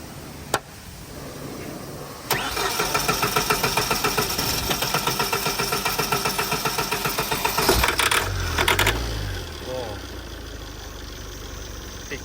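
A Tata car with a hard-starting, poor-revving engine is cranked: after a sharp click, the starter churns in a rapid rhythmic pulse for about five seconds before the engine briefly catches and fades to a low rumble.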